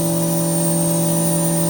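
A CNC machine cutting a bracket out of stock held on a gasketed vacuum fixture, making a steady whining drone with strong constant tones and a faint high pitch, running continuously without talk.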